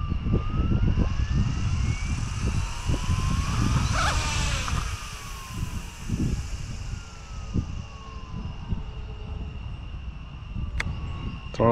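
A Sikorsky UH-60 Black Hawk RC model helicopter flies after a minor crash, its whining rotor and motor drone steady and loud throughout, rising in pitch briefly midway.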